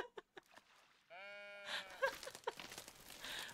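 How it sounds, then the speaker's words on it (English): Sheep in the video game Tiny Glade bleat in a clear, wavering call with stacked harmonics, following a few soft clicks and leading into busy game chatter and scattered effects. "There's the sheep!"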